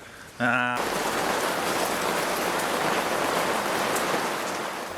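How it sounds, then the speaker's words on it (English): Steady rain pours down on a sailing boat off Portland Bill in a dense, continuous hiss, close and fairly loud, after a brief tonal sound at the very start. "Just felt the very first raindrop, second,"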